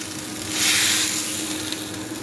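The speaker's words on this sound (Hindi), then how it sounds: "जो हमने ये तड़का तैयार किया है, इसको ऊपर से डाल देंगे" Hot tempering (tadka) is poured over a watery cucumber mixture, giving a brief swelling hiss and sizzle that peaks early and then settles into a steady crackle over a low hum.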